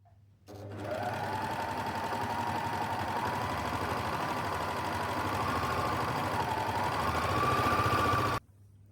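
A sewing machine stitches a gathered waistband onto a dress, a steady close mechanical whir that runs unbroken for several seconds before stopping abruptly.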